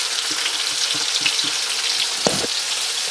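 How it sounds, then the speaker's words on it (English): Onions hit hot lard in a pan for barbecue pork and beans, giving a steady, bright sizzle throughout with a few soft stirring clicks and scrapes. "We're going to go in with our onions,"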